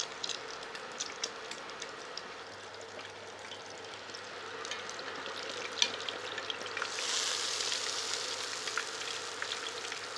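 A big pork chop fries in hot oil toward a golden brown, giving a soft continuous sizzle and faint crackling that swells slightly louder in the final seconds, heard close and alone.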